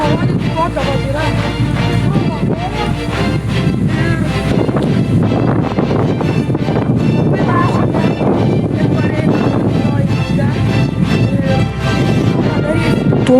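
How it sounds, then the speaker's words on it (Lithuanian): Strong wind buffeting the microphone outdoors in a rainy garden, a loud steady roar with constant low rumble and gusty rushes throughout, drowning everything else. "Tuo metu labai sunkiai viskas girdėjosi, pūtė labai stiprus vėjas."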